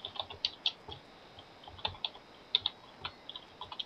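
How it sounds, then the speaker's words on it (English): Quiet, irregular clicking of keys on a computer keyboard, a burst of light taps with short pauses between. "Hey, I hear typing."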